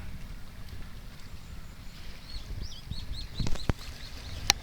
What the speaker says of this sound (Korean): 외도 갔다 오는 유람선입니다